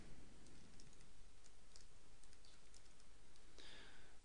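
Faint, sparse clicks of a computer keyboard as a password is typed in while setting up a Gmail account, irregular taps over a steady background hiss.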